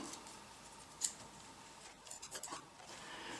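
Scissors cut through fabric to make a rice pillow, a soft close snip followed by a few quieter rustling cuts against faint room noise.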